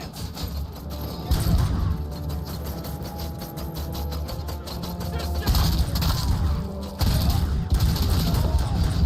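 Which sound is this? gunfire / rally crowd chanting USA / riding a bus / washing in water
gunfire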